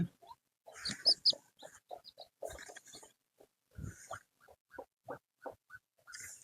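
Hens and young chicks at a home poultry coop: a run of close, clucking calls and shrill chick peeps, irregular and overlapping in short bursts with brief gaps between.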